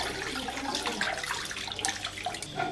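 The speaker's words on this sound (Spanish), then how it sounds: "Tiramos del tanque hacia arriba con cuidado para no derramar el agua que ha quedado en el fondo. Y la tiramos por el desagüe." Leftover water from the bottom of a toilet cistern tank poured down a drain, a steady close splashing pour that runs unbroken for a few seconds with no voices.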